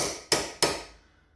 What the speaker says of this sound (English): give her a little tappy tap with the hammer to get her seated